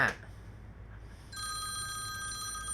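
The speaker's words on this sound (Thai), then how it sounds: "อ่ะเดี๋ยวผมขอรับโทรศัพท์แป๊บนึงนะ" A telephone at an electronics repair bench starts ringing midway with a steady electronic ring tone that continues to the end, near and moderately loud, after a short knock at the start and a low hum.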